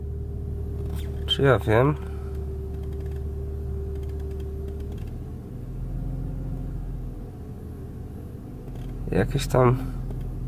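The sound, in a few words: BMW E46 engine idle fluctuating after light throttle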